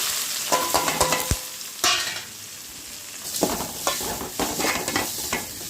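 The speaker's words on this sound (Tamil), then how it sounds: "வெங்காயம் நல்லா வதக்கிடணும்." Onions sauté in oil with cloves, fennel, cumin and curry leaves, a loud close crackling sizzle with bursts of spoon stirring and metal clatter against the pan, easing briefly midway before vigorous stirring resumes.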